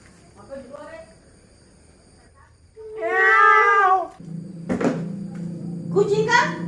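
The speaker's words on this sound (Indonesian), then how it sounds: "Kucing kan?" A cat meows indoors, a clear drawn-out call standing alone between stretches of quiet and household noise, with a short sharp knock and more people talking nearby.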